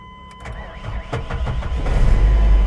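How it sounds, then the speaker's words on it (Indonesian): An Opel Blazer engine starts up: the starter motor cranks briefly, then the engine catches and settles into a steady, loud idle close by, with no talk over it. "sekarang kita akan melihat untuk kondisi mesinnya ya kita akan start untuk engine-nya ya kita nyalain"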